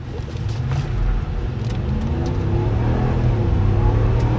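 A 2025 RAM Rebel pickup with a 3.0L twin-turbo inline-six launches hard in a 0-60 run, engine roaring loud and close with a steady building rumble and rising tone as it accelerates.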